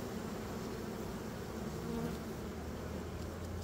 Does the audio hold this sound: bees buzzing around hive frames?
yes